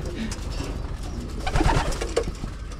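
A pigeon gives soft, low cooing calls up close in a pigeon loft over steady background noise.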